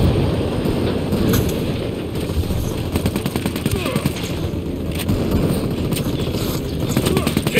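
An Apache attack helicopter in Ghost Recon Wildlands roars loud and dense, its rotor thumping steadily under rapid bursts of gunfire that run the whole time.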